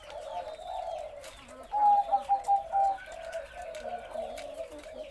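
A spotted dove of the wild-colour type with a big voice coos to its mate in a run of soft, low, rolling notes, with a few louder, sharper pulses midway, close by in an otherwise quiet setting without speech.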